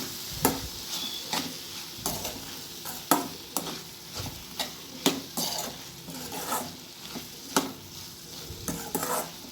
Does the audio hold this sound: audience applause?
no